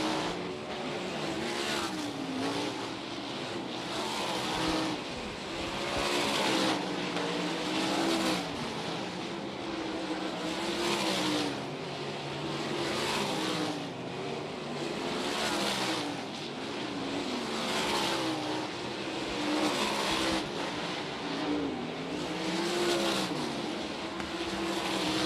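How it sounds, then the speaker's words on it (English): Sprint cars race at high speed around the oval dirt track at Texarkana 67 Speedway during the Short Track Nationals, a steady loud engine roar that swells and fades in regular waves as the pack laps past. "these sprint cars are ripping at a high rate of speed here at the Manable, Arkansas Oval here at Texarkana"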